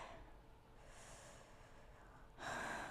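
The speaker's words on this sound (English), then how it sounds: "I'm going to breathe and feel the rib cage expand on the inhale" A violinist draws a deep, slow breath through the nose before playing, a soft breathy inhale heard alone and close, followed by a stronger rush of air at the end.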